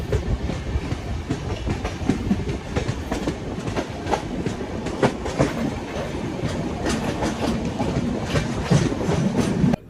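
The Rayalaseema Express, a crowded passenger train, rolls steadily along the tracks with rhythmic clickety-clack of wheels over rail joints, loud and close, as from inside a carriage.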